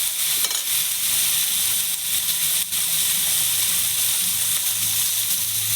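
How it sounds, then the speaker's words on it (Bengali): Chopped bottle gourd being stirred in a hot frying pan, giving a steady loud sizzle and hiss with faint scraping of the spoon throughout and no talking. "এবার আমি কেটে ধুয়ে রাখা লাউটা দিয়ে দেবো লাউটা একটু নেড়ে ফেলে"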